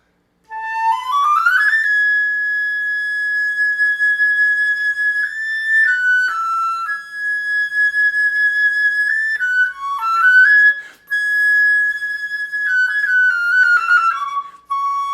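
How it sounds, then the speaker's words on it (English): Solo concert flute sustaining high-register notes, bright and clear, held long tones with a few quick note changes and slurred steps, close and steady for about fifteen seconds. "And then I also have a high register, which sounds like this."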